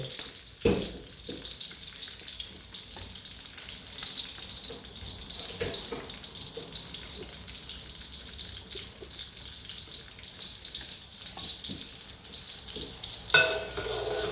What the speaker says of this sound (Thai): น้ำมันร้อนแล้วมาดูกันเลยค่ะ ใส่พริกลงไปค่ะ